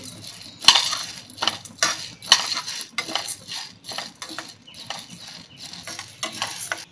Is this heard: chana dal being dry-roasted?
yes